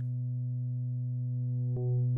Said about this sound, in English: The sine wave itself is quite boring, as we know, because it has no harmonics and only the fundamental frequency.